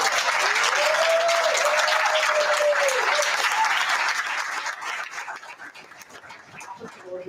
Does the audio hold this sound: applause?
yes